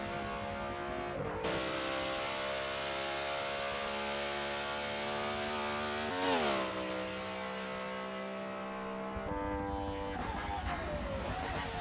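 A BMW race car from a racing game roars around Bathurst with a steady, loud engine drone that holds high revs, dips briefly mid-way as the pitch swoops, then carries on with a lower shift toward the end.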